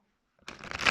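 Tarot cards being shuffled at a table, a short soft riffle of card edges that starts after a moment of silence and builds quickly.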